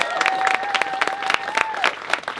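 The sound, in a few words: wedding guests applauding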